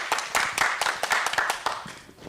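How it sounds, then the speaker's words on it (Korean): A small audience at a Korean culture and gender equality forum gives a short burst of clapping. A few hands clap in a quick, uneven patter that fades within about two seconds. "정말 박수 좀 한번 쳐주세요."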